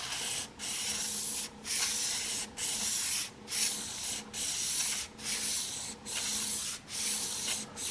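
A single-bevel Samurai broadhead is drawn in light, even sharpening strokes, each a soft raspy hiss lasting under a second with brief gaps between, about a dozen in a steady rhythm, close and quiet.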